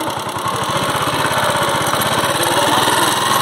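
Motorcycle engine running close by, a loud steady buzzing drone with a rapid even firing pulse that swells slightly toward the end, with no voices over it.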